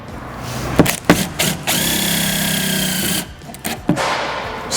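A power driver spins screws into a Transit van door liner in short whirring bursts, with one long sustained run in the middle and clicks and handling knocks between, close up.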